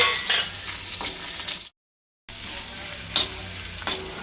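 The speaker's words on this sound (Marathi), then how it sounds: "कांदो आतां लायट ब्रावन जायसर तळसून घेता।" Onions and garlic frying in hot oil in a pan for a Goan elephant yam leaf bhaji, a steady close sizzle with occasional stirring scrapes, interrupted by a short gap of silence.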